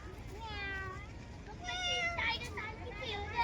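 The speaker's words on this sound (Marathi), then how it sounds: "आपल्या टायगर सारखी मा बघ ही मांजर" A cat at Katraj zoo in Pune lets out several drawn-out meows, close and fairly loud, over a background of crowd murmur and children's voices.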